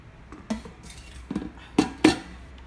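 The lid of a Japanese-made KBG4500 thermos cooker is fitted and closed over a pot of stewed bones and potatoes, giving a few scattered metallic clinks and knocks, the last two louder.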